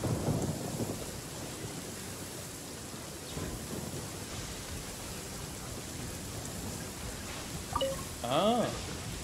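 Steady rain hisses throughout a stormy scene in the video game Genshin Impact, with a low thunder rumble at the start and another roll midway, plus faint game chimes near the end.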